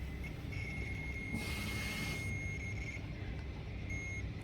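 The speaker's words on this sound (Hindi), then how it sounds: "ये बजर की आवाज़ आपको आ रही होगी" A multimeter set to continuity gives a steady high electronic buzzer tone, sounding for about two and a half seconds over a low background hum, then a shorter second beep near the end.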